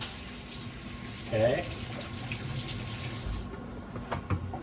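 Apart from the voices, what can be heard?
washing hands under a running tap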